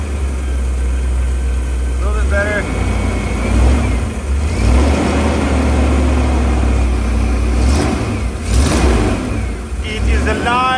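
Ford E350 van with a 5.8 engine that has bad fuel, running loud with a deep rumbling idle and a few revs, close up, with brief speech over it.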